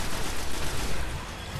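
A weapon being test-fired in the video game Destiny, a dense rapid burst of gunfire rattling continuously for under two seconds, loud and close.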